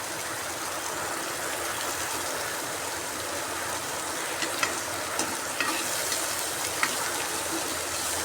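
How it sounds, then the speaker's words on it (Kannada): Chopped onions fry in tempering oil for crab sukka, giving a steady, dense sizzle throughout, with a few faint stirring clicks toward the end and no voices. "ಈರುಳ್ಳಿ ಹಸಿ ವಾಸನೆ ಹೋಗುವವರೆಗೂ ಸ್ವಲ್ಪ ಫ್ರೈ ಮಾಡುವ"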